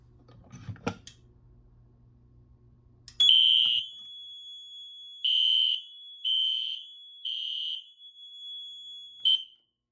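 Notifier SFP-400B fire alarm panel sounding, a piercing high-pitched electronic tone that starts after a few handling clatters and then repeats in five loud pulses of uneven length in a quiet room.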